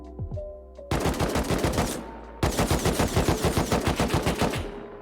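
Rapid automatic gunfire from a character in the survival game Rust, two long sustained bursts of evenly spaced shots after a few quieter single pops, loud and close with no talk.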